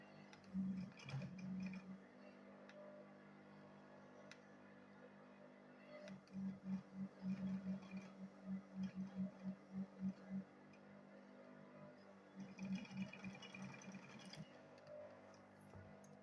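Sewing machine stitching fabric for a handmade purse, heard as bursts of rapid mechanical clatter separated by pauses, fairly quiet and close with a faint background hum.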